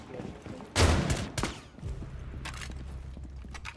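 Gunfire in the video game Rainbow Six Siege: a loud burst of shots near the start, a second sharp report, then scattered quieter shots, with someone talking over it.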